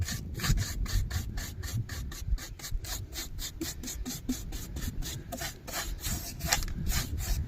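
A brush is dry-brushed with light grey paint over a DIY rock face for a minicrawler course. It makes close, rhythmic, scratchy rubbing strokes in quick, regular repetition.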